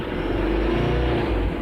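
A 2009 Ford Everest with a low-power fault idles in a garage, its EGR valve apparently always on, giving a steady, close, even engine rumble with no talk.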